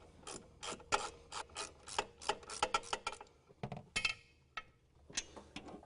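A ratchet on a long extension working on a car's hub assembly, a series of close, sharp clicking bursts in quick irregular runs with short pauses.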